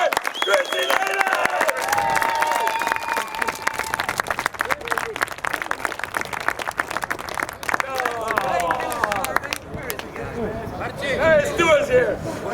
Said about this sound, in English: give a big round of applause for Chrissy Nailen!